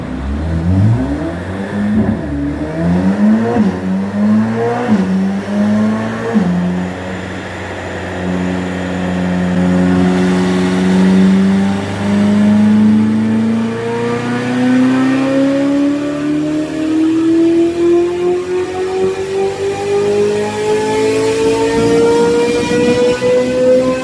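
A Corvette C8 Z06 engine roars under load on a dynamometer, loud and close, stepping through gears in rising surges before one long, climbing sweep toward high revs.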